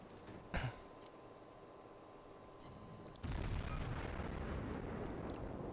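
Light cruiser Koenigsberg's guns firing in the naval video game World of Warships: one short boom early, then a heavier sustained rumble of gunfire from midway, all fairly faint.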